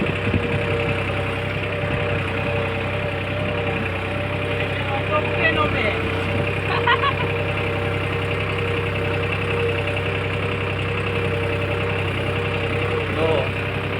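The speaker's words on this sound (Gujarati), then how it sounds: "ટ્રેક્ટર કેટલા RPM માં ચાલે છે એ જોઈ લો" A tractor engine runs steadily at a constant speed nearby, a continuous low rumbling drone with even harmonics and no pauses for the full duration.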